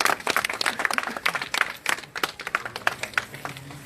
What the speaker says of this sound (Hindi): तालियां होनी चाहिए जी